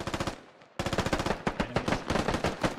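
Rapid automatic gunfire in the video game Squad rattles in loud, close bursts, with a brief pause before a longer sustained volley.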